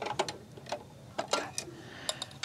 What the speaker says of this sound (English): have the machine lift that needle plate for us